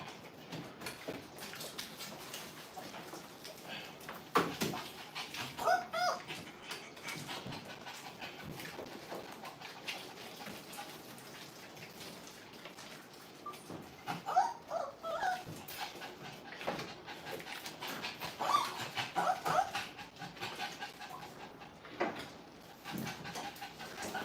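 A dog whimpers and pants throughout, with soft whines and breathy panting close by and fairly quiet, and no talking.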